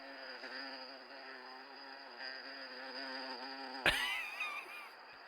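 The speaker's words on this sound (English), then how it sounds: "All right, enough for the bee." A bee buzzes around inside a house, its steady insect drone continuing for several seconds before a brief sharp knock and a shift into a louder, wavering flutter near the end.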